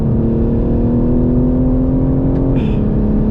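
A new BMW M3 Competition engine drones at steady high revs up close, then the pitch drops sharply as it shifts gear, and the loud tone holds throughout.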